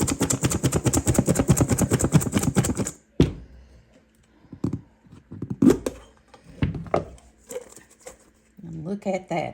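Broccoli and cauliflower salad shaken inside a lidded container, giving a few short rattling, knocking bursts after a stretch of talk, with a voice returning at the end.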